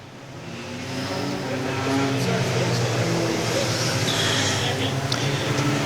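Pure stock race cars roar around a dirt racetrack at the start of a 25-lap feature, a steady loud engine drone that swells and holds throughout, with a crowd and announcer noise blended underneath.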